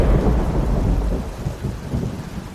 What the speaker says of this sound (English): A thunderstorm owned the sky above as Johann was standing outside the farmhouse